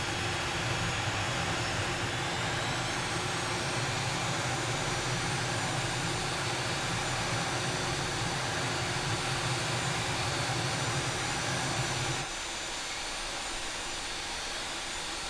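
An A-10C Thunderbolt II jet engine in Microsoft Flight Simulator 2020 roars steadily with a rising whine and deep rumble while spooling up to 60%, loud and continuous, then drops in intensity near the end.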